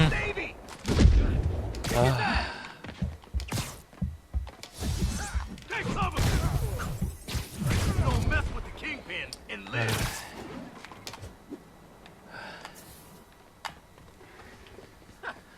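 Repeated gunfire bursts and heavy thuds in a Spider-Man video game sound in irregular clusters. Someone talks excitedly over much of the shooting.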